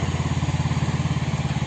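A mini tractor's small engine runs steadily up close, its low, regular thumping pulse filling the moment with no talking over it.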